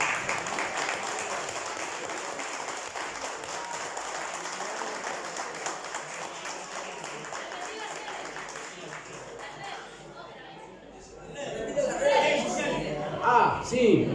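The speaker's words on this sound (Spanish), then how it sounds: "si ahora quiero pedir un aplauso," Concert audience applauding in a steady wash of clapping, fairly faint, with voices talking over it; the clapping fades near the end as a louder voice and crowd sounds come forward.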